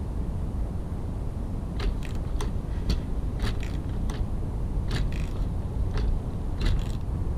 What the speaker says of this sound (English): I'm just using my gear wrench ratchet, short extension with a 13 millimeter socket